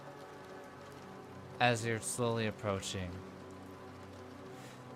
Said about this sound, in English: You hear the rain again